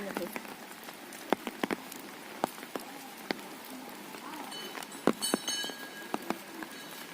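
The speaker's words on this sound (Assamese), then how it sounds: "এইফালে বৰষুণ" Steady rain falls at a Shiva temple over a broad hiss, with scattered sharp drips and taps striking nearby surfaces at irregular intervals.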